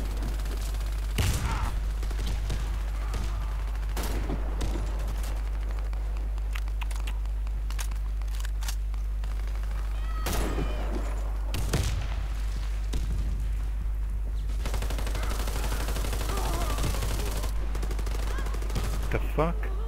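Video game gunfire with sharp bursts of shots spaced through the clip, some clustered into rapid volleys, over a steady low hum with a player voice talking at times.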